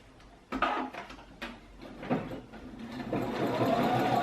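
A sewing machine stitches a fabric face mask in short, soft bursts with clicks and thumps, building to a steadier whir near the end; quiet and close.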